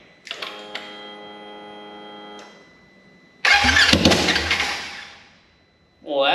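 A wrecked RZR side-by-side engine, freshly primed with fuel, cranks with a steady buzzing starter whir for about two seconds, then a loud rough burst of engine noise follows and fades out.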